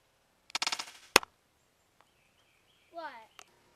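A Star Wars Clone Wars Mandalorian toy gun fires a rapid burst of buzzy electronic shots, then a sharp crack, followed later by a descending warbling blaster tone and a final click, all fairly close with no talking.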